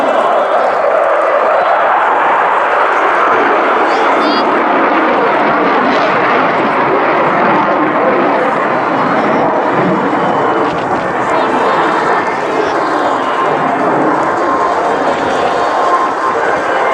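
A Tornado combat aircraft flies a vertical roll at the 2017 Cosford airshow. Its jet roar is loud and unbroken for the whole stretch, a dense, rushing wall of engine noise that buries any crowd sound.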